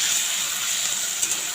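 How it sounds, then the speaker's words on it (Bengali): Prawns coated in salt and turmeric fry in a pan over a high gas flame, giving a steady, close hiss and sizzle throughout. "চিংড়ি মাছটাকে এবার আমরা একটু ভাজা ভাজা করে নেব।"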